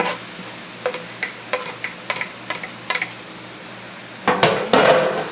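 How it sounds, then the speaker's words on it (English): Meat and vegetables browning in a pan for Philly cheesesteak egg roll filling, a soft steady sizzle with scattered scraping stir clicks and a louder burst of stirring at the end. "we're gonna let the meat brown, let the veggies start tenderizing"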